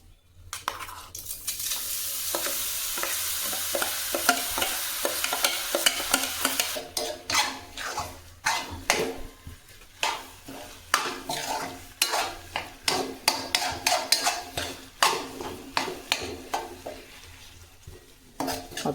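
Raw mango paste cooks without oil in a hot kadhai: a continuous sizzle at first, then rhythmic spoon strokes scraping and stirring against the pan for the rest of the stretch, with no talking.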